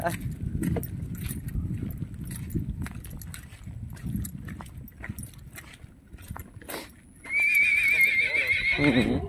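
A horse neighs loudly near the end after a stretch of hoof clip-clops, jangling tack and low outdoor rumble on a mountain path, with a person talking earlier.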